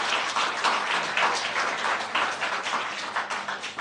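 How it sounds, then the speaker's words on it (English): An audience at an inter-secondary schools debating competition applauds for the students, giving steady, moderately loud clapping throughout with no speech over it. "Let's give the students a big round of applause"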